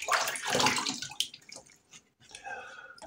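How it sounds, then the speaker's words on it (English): Cold tap water splashes as a face is washed over a bathroom sink, close wet slapping and dripping bursts, fading to quiet and resuming briefly. "So now I wash up my face with cold water."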